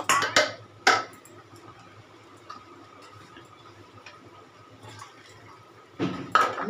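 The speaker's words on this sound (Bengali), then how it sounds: "তো গরম জলটা দিচ্ছি আন্দাজ করে।" Hot water is poured into a pot of mixed rice in short splashing bursts at the start and a louder gush at the end, with a quiet, low hum in between.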